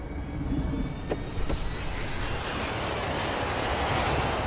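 A passenger airplane's engines roar during takeoff in a film scene: a loud, steady, broadband rush with a couple of brief thumps early on.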